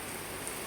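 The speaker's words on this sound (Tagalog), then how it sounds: "Lakas ng ulan, no?" Heavy rain pours steadily on an apartment in Camarines Sur, a dense, even hiss with no break in the brief moment.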